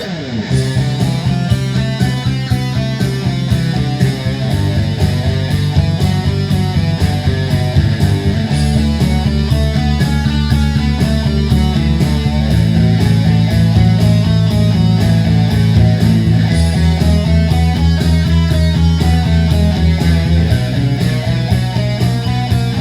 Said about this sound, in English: I have some drums and a bass guitar background.